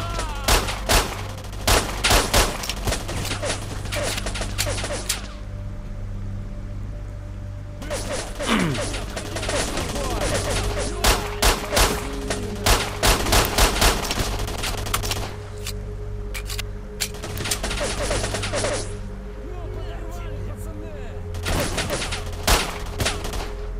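Repeated gunfire from weapons in the video game Stalker: Shadow of Chernobyl, loud bursts of shots and rapid volleys firing in irregular clusters over a steady game ambience, with no talking.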